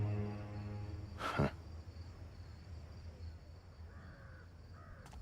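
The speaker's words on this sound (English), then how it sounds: "It's the crows. A whole matter of them, crying for our spirits." Crows caw faintly in a dark medieval city setting within the stealth game Thief, one harsh call standing out over a soft bed of cricket-like night ambience.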